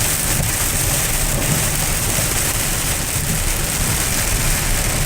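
Heavy rain during a drive home, a loud, constant wash of rain noise with a low rumble underneath, steady from start to finish and without any voices.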